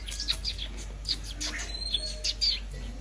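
A myna squawks and whistles repeatedly at a zoo in Jatim Park 2, its bright, sharp calls coming close and loud in irregular bursts over a steady low background hum.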